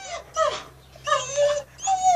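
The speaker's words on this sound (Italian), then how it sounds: "Amilla, ma chi gli ha fatto a sti cani? Vai, porelli, stanno arrabbiatissimi" Several agitated dogs, including a female in heat, whine and yip in urgent bursts, high whimpers rising and falling in three separate phrases with short pauses between, close and fairly loud.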